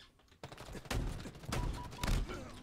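Gunfire from the multiplayer video game Halo Infinite arrives in several loud, rapid bursts that follow a brief quiet start, with the shots and their echoes crowding close together.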